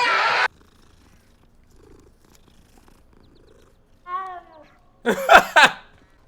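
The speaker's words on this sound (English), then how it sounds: "Is this one gonna have a deep meow like the other one?" A cat in the Hogwarts Legacy video game purrs loudly and briefly at first, then after a quiet pause gives a short warbling meow followed by a louder, drawn-out double meow close up.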